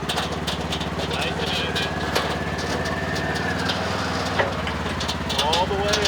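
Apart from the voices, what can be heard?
Polaris side-by-side engine throttling up onto a trailer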